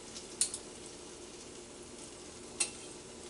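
Vegetables and garlic sizzle in a pan for a cremini mushroom cream sauce, a steady close frying hiss broken by two sharp clinks of a utensil against the pan.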